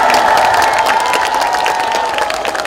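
A crowd at a presidential campaign launch rally applauds and cheers loudly, a brief, dense burst of clapping with crowd noise that carries on throughout.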